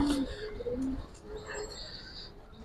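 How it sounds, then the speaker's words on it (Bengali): A female Giribaz pigeon, an old black-necked line, gives a few soft coos close by amid background noise and a voice speaking nearby. "একদম ভাই ফুললি চড়া চোখের একটা মাদি কবুতর ভাই"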